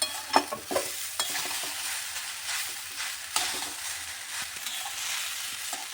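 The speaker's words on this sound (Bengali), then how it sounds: "ভালোভাবে মালাইটাকে মিশিয়ে নিচ্ছি।" A spoon stirs chire pulao (flattened rice with vegetables) after malai is added in a pan, with steady scraping and soft sizzling and a few sharper clinks near the start, close by and with no talk.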